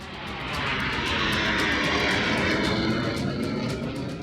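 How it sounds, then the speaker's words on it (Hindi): Fighter jets such as Sukhoi, Mirage and Rafale roar over the Purvanchal Expressway in Uttar Pradesh, used as a runway, a loud broad engine roar that builds quickly and holds steady and close. "सुखोई, मिराज और रफाल जैसे विमानों की दहाड़ से इस वक्त यूपी का नया रनवे गूंज रहा है"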